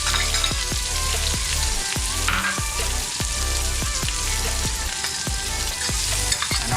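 Onions sizzle steadily in hot oil in a pan for pepper mutton curry, a loud, dense crackle broken by regular scraping stirs of a spoon.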